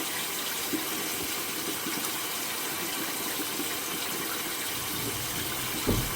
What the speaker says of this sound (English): I got this water running.